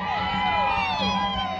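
Women at a wedding dance in Santa Rita, Jerez, shout together in a loud, sustained crowd cheer with overlapping whoops and high voices, close and continuous throughout.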